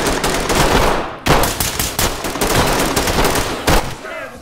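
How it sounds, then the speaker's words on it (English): Rapid video-game gunfire during a shootout at a car dealership, loud bursts of automatic shots with sharp individual cracks and brief pauses, filling the whole span. "Make ready, fire."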